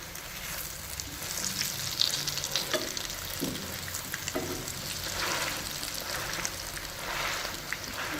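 Onion tikki fritters fry in oil in a village kitchen, a soft continuous sizzle with faint spatula presses and stirring, fairly quiet and without speech.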